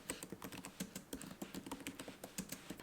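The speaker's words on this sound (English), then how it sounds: "These keys feel very nice to type with. They're definitely very like light. They do make a little noise when you're typing." Light, rapid keystrokes on a MacBook Air M3 keyboard, soft close clicks tapping in a quick uneven rhythm, quiet and alone.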